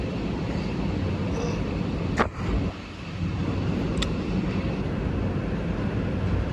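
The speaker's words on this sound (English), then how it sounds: "Another L train arriving." A New York subway L train arriving at a station, a steady rumbling roar with a couple of brief sharp clanks and a short dip in the noise partway through.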